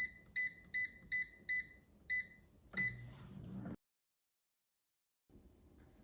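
Air fryer control panel beeping as temperature and time are set, about seven short sharp electronic beeps in a quick regular series, then a brief rustle, silence, and a low hum returning.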